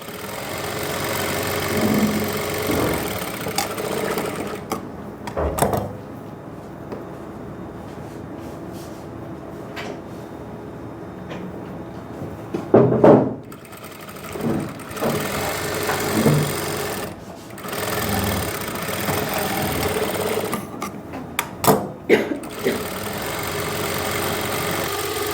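A sewing machine stitches the side seam of a suit in uneven bursts of mechanical whirring and clatter, with short stops and louder knocks between runs.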